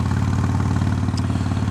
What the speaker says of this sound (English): Got a lovely sound to her, but I'm not used to a bike quite this loud